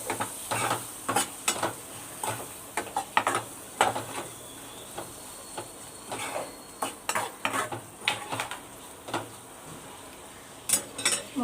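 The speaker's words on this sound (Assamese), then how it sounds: "বিলাহী ধুনীয়াকৈ ভাজি ল'ব লাগিব" Tomatoes fry in oil in a pan while a utensil repeatedly scrapes and clinks against the metal, giving irregular stirring knocks over a soft sizzle.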